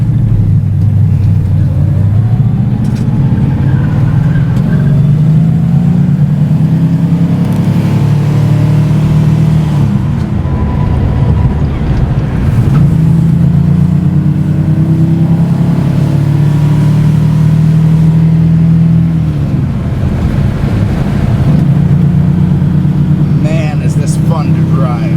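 A 1966 Plymouth Belvedere muscle car with a 383 V8 and four-speed manual, loud and close as it accelerates hard through the gears, with rising engine roars cut by gear shifts and someone talking over it.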